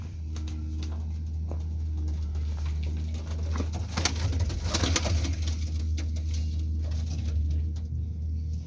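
Pigeons settle into their coop, a soft cooing and wing patter running over a steady low hum, with a brief louder flurry midway; no voices.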